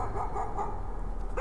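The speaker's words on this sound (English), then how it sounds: "I hear a dog barking" A dog barking in the video game Layers of Fear, a quick, repetitive run over a dense, steady low rumble, sounding somewhat distant and muffled.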